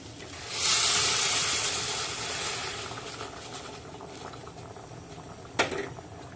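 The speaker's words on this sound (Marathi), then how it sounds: "गरम पाणी घातल्याने कालवणात लगेच उकळी आलेली आहे" Prawn curry comes to a rolling boil in a pot right after hot water is poured in, a loud bubbling hiss that swells then settles, ending with a short clink.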